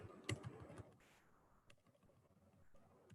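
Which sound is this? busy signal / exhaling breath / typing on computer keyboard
typing on computer keyboard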